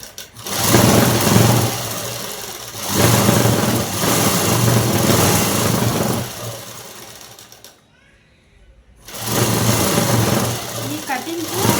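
A sewing machine stitching cloth runs in long steady whirring bursts, pausing briefly between them and stopping for about a second before starting again, with a voice speaking over parts of it.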